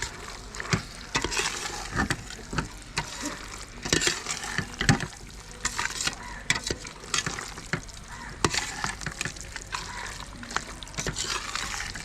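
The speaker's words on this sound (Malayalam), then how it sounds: "എല്ലാം കൂടി ഒന്ന് മിക്സ് ചെയ്യാം. മട്ടൻ്റെ ഗ്രേവിയൊക്കെ നന്നായിട്ടൊന്ന് പിടിക്കട്ടെ ആ മസാലയിൽ." A spoon stirs mutton gravy into masala in a pot for Thalassery mutton dum biryani, making close, repeated wet scraping and squelching sounds over a soft sizzle, with a few brief louder knocks against the pot.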